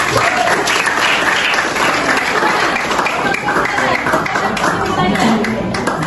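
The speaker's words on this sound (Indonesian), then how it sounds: "Oke, baik, tepuk tangan buat kelompok." Students in an eleventh-grade biology lab class applaud a presenting group, a loud, dense burst of clapping that runs steadily for several seconds with voices mixed in.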